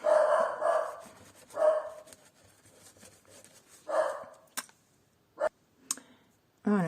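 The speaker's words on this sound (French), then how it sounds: "j'ai mon chien qui aboyait après le camion poubelle" A dog barks at a garbage truck in short bursts, a few loud yaps spaced irregularly with quiet gaps and clicks between them, fairly close.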